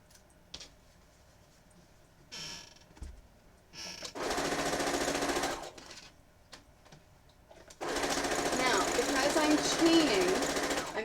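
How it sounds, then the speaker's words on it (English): Sewing machine chain sewing rows of a pixel-art quilt, running in two sustained rapid stitching bursts between quieter stretches of handling noises and soft speech. "I want to make sure I have something constantly going in my sewing machine"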